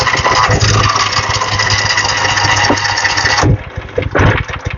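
A small engine starts and runs with a steady, loud mid-pitched idle, sputtering and dropping off near the end as it stumbles.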